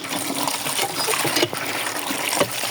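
Cold water gushes over half-boiled noodles in a steady, close, fairly loud pour with a few small splashes, and no voices.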